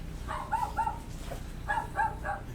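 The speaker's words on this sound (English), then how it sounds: "This invasion's got the dogs riled up." Several dogs bark excitedly in two bursts of overlapping yaps and barks, fairly close, with a low steady hum beneath and a short pause between the bursts.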